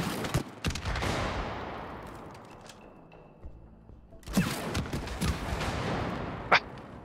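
Shooting in the video game It Takes Two: scattered sharp shots and impacts over busy game noise, with a quieter lull in the middle before a denser burst and a final crisp hit.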